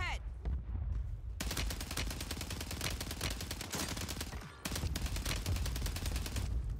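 Rapid automatic gunfire from the video game Warzone 3, loud, dense and sustained, cut by one brief pause before the firing resumes.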